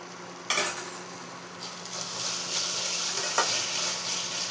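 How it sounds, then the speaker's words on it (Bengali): A spoon clinks and scrapes in a pan while paneer pakoda filling with tomato ketchup is mixed, over a steady close sizzle, with a sharp metallic tap at the start and another midway; no talking. "এবার এগুলো আমি মিলিয়ে নেবো এর সাথে।"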